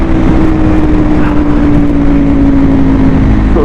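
A 2022 Aprilia RSV4 1100 Factory V4 motorcycle engine runs loud and close, a dense sustained roar with a steady droning note and no talk.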